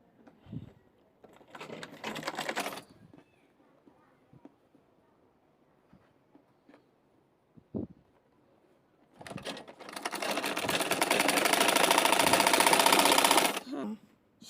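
A sewing machine stitches piping onto baby pants in two runs, a short whirring burst early on and a longer, louder steady run near the end, separated by quiet handling sounds and clicks.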